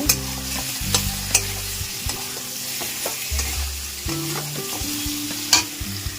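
Chicken frying in a pan with salt, turmeric and chili is stirred by hand: repeated scraping strokes and clicks of the utensil over a steady sizzle, close up, with no talking.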